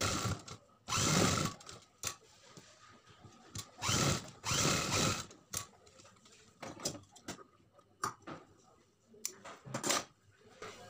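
Sewing machine stitching a blouse back neck runs in several short bursts of rapid whirring, separated by quiet pauses and small clicks, moderately close.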